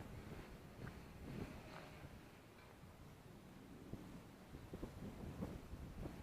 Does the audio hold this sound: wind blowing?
yes